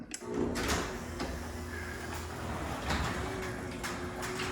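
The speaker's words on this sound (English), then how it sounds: "Push and hold the black button until the door is out to your desired up limit." A residential garage door opener raises the door: a continuous mechanical rumble and rattle holds at a steady level throughout, with no talking.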